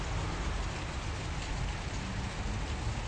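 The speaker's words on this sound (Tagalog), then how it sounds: "Ulan na sa Kuwait." Steady rain falls in Kuwait at the start of winter, a dense, even hiss of drops on surfaces, fairly quiet and continuous with no voices.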